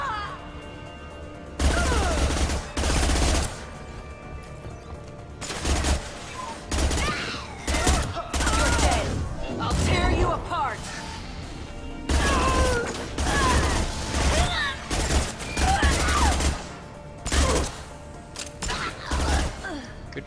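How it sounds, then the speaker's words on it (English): Gunfire in the video game Mass Effect 2, sustained bursts of rapid automatic fire with mechanical clatter that come and go over about twenty seconds, loud and dense, with in-game voices and effects mixed underneath. "Shooting."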